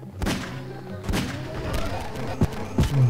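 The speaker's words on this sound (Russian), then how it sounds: "Давайте тогда еще одну, только небольшую бомбу." A small bomb explodes in the Garry's Mod video game, giving a series of dull booms and thuds, one sharp thump followed by several smaller impacts, with game noise around them.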